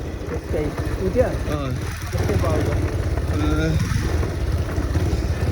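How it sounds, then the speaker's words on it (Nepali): A motorcycle engine idles and rumbles nearby at a crowded fair gathering, steady and low beneath people talking close by. "ऊ त्यो कसको बाइक हो"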